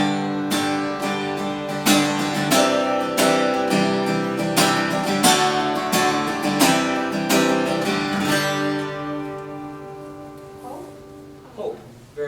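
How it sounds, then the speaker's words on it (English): Chords played on an instrument for a songwriting workshop, struck in a series of rhythmic strums that ring out and fade at the end, fairly close, with no talking over them. "So I'm going to play these chords for you,"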